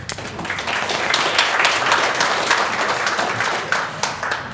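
An audience claps for a presenter about to speak on a wartime voyage diary, a full, sustained round of applause that swells and stays strong before easing slightly.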